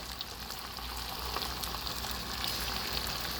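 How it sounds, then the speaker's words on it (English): Samosas in homemade wraps frying in hot oil, a steady close-up sizzle and crackle with small popping bursts throughout, no voices. "This is my other bunch, so we're gonna put it in the oil and see how that"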